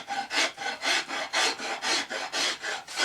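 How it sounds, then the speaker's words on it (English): A rasp filing a piece of wood while shaping a small axe handle, in steady rhythmic back-and-forth strokes, about three per second, close and loud with no other sound. "watching me rasp a piece of wood"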